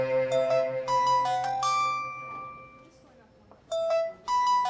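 A phone ringtone plays a repeating electronic melody in short bursts, with a pause in between, loud and close under a low background hum.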